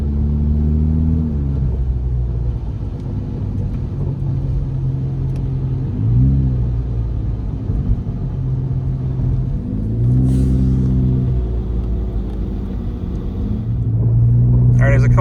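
Low droning hum and rumble from inside a moving Saturn Vue, a worn left wheel bearing growling steadily with engine tones rising and falling as it drives.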